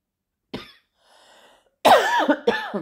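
Several harsh coughs break out close by, one short cough first, then a raspy throat-clearing and two strong hacking coughs in quick succession.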